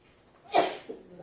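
One sharp sneeze close by, a short breathy burst followed by a faint exhale, alone with no talking.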